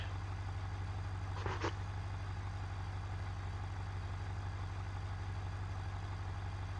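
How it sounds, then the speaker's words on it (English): A steady low six-liter diesel engine idle in the BeamNG.drive video game rumbles continuously, with a brief faint click or tap near the middle; no voices. "Let's test out that diesel sound."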